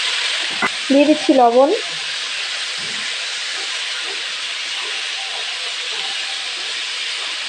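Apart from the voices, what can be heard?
potatoes frying in hot oil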